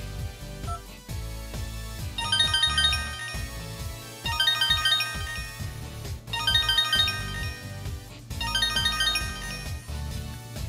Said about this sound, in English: Maps makes a ringing sound.